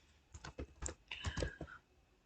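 CSS code is typed on a computer keyboard in a short burst of quiet, close keystrokes that tap out irregularly and then stop.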